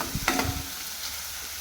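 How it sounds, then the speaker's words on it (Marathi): Tempering spices crackle and sizzle in hot oil, a few sharp pops and a stirring scrape early on, then a steady softer hiss. "हे बघा मस्त अशी आपली फोडणी"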